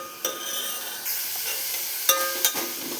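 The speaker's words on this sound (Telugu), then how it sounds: "ఒక చిన్న కప్పు తురుముకున్న సొరకాయ ఉంటుంది కదా, అది కూడా అదే నెయ్యిలో వేంపేసుకోవాలి" Grated bottle gourd sizzles steadily in hot ghee, a close, constant hiss broken by a few sharp clinks and scrapes of stirring.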